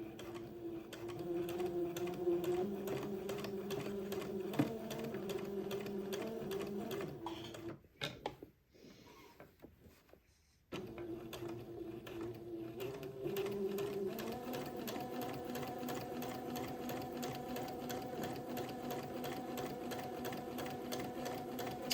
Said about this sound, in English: I'm going to top stitch all along the edge of the waistband.